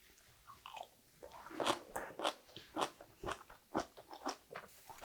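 Crisp, crunchy bites into pickled spinach jangajji, slightly sour and not very sweet, come in a steady rhythm of close, wet chewing crunches, roughly one every half second, with no talking.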